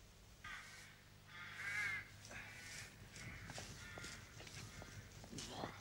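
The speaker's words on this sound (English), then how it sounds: "I was insulting the crows." Several crows caw repeatedly at moderate distance in an outdoor setting, harsh calls spread unevenly across the stretch with some faint rustling between them.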